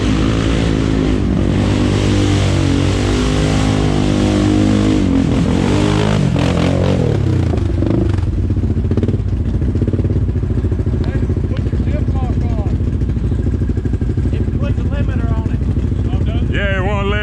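An ATV engine at Sabine ATV Park revs hard and close, its rising, buzzing drone dropping away to a lower rumble as it struggles to reach full throttle, with voices talking over it.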